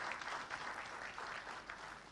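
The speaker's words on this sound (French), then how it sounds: "On va applaudir très fort l'ensemble du commissariat général" Audience applause fills an awards ceremony for Burkina Faso football, a steady dense patter of many hands clapping at moderate level throughout, with no pauses.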